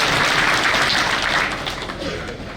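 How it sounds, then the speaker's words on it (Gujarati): A gathering's audience claps in a dense, steady wash of applause that stays fairly loud throughout and eases slightly toward the end, with no distinct single claps standing out. "આજે થોડી તાળીઓ તો આપો"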